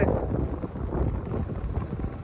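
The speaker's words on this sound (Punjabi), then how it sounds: "ਹਵਾ ਚੱਲ ਪਈ ਹੁਣ" Wind gusting across an open farm field where wheat is grown and potatoes are sprayed, a steady close rumbling buffet on the microphone throughout, with no voices.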